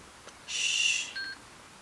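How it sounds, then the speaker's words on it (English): A wristwatch alarm set as a plant-watering reminder gives a short electronic chirp of about two-thirds of a second, then a couple of faint thin tones, heard up close in an otherwise quiet room. "I have an alarm on my watch to remind me to water my plants."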